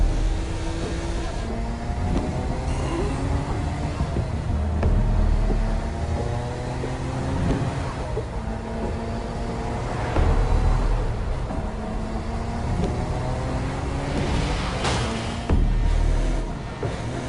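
Car driving in Saints Row, the engine humming and revving through shifting gear tones with road rumble, steady and fairly loud throughout, no voices.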